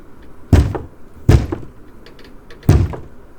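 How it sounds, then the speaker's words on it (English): Three slow, heavy knocks land on a bedroom window, evenly spaced, close and loud, each a deep hollow thud, with no voices. "3 slow knocks."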